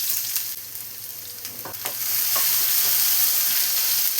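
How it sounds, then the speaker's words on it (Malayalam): Eight shallots sliced into hot coconut oil fry with a steady bright sizzle, a few louder spatters and scraping touches early on, then a fuller, even crackle for the rest, close by with no voices. "അതിലേക്ക് നമുക്കൊരു 8 ചുവന്നുള്ളി കട്ട് ചെയ്ത് വെച്ചത് ചേർത്ത് കൊടുക്കാം."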